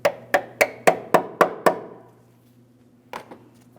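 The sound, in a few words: tapping brake hose fitting into position on Toyota Matrix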